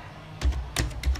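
A few quick keystrokes on a computer keyboard while entering a Linux terminal command, close and quiet, four or so taps in a short burst.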